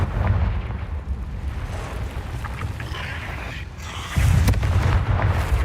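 Confringo blasting spell explosions in the Hogwarts Legacy video game, a loud continuous rumbling roar of blasts that swells again near the end, heard close and dense.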